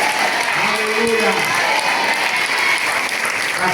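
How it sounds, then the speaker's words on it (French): Congregation applauding the Lord during a thanksgiving church service, a dense, steady wash of clapping that fills the whole moment loudly, with voices mixed in underneath. "Applaudissons pour le Seigneur."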